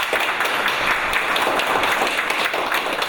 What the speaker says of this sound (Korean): 이분에서 한번 박수 한번 쳐주십시오